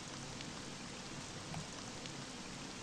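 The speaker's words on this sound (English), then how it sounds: "And it's raining." Steady rain falling in the video game The dark side of Red Riding Hood, a dense, even hiss of drops on surfaces with no other sounds and no speech.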